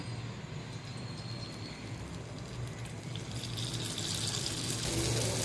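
Paniyaram batter being poured into a hot paniyaram pan makes a soft liquid pour that rises into a brighter hiss near the end, close and fairly quiet, with no one speaking.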